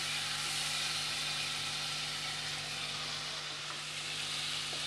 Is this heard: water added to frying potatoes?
yes